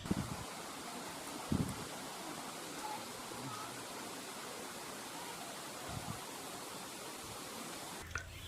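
Katiki waterfall in Araku valley roars as a steady, dense wash of falling water throughout, with a few faint knocks and brief bumps near the microphone.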